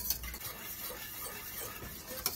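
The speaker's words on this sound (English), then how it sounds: "You have to stir them because they will stick." Grits being stirred in a pot on the stove, a faint continuous scraping and swishing of the spoon against the pot with a couple of small clinks, quiet and alone without talk.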